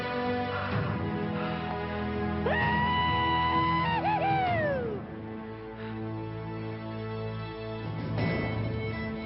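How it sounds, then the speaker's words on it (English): A person's yell rings out in the distance across open wilderness during a manhunt, a single drawn-out wailing cry that rises and then bends downward over a steady outdoor background, with no talk. "I just heard somebody yell up here."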